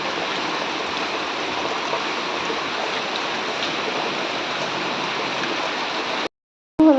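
Steady rain pours down in a continuous, dense wash of even hiss for several seconds, fairly loud and close, then cuts off abruptly just before the end.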